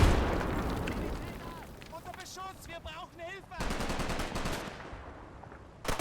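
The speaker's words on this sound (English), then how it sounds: "The gunner is then submachine gunned down as he attempts to flee." Shells and submachine gun fire in the Combat Mission video game: a dense, loud battle din of rapid bursts and booms, with a stretch of fast, evenly spaced automatic fire near the end.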